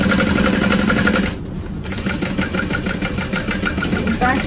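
A sewing machine stitches a duffel bag, running forward and reversing to backstitch, a steady close mechanical whir with a short pause, under a speaking voice.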